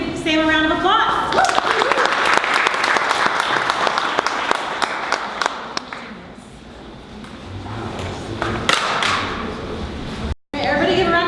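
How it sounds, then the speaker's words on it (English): A small audience gives a round of applause at the end of a presentation, sharp scattered claps rising after a brief voice, then thinning out before another voice returns. "Everybody give Sam a round of applause"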